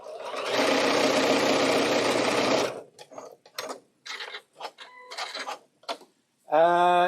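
A multi-stitch domestic sewing machine runs steadily for about three seconds while sewing decorative stitches, a continuous close whir, followed by short clicks and brief mechanical bursts, then a sharp tonal whine at the end.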